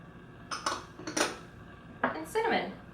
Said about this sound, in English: The first thing we're going to do is to mix in the flour right there into the oats